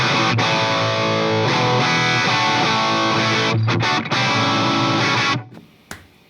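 Loud, distorted electric guitar chords play through a cabinet of two Celestion Greenback speakers, close-miked with a 57 and pushed by a 100-watt amp, sustaining densely before brief breaks and a final cut-off.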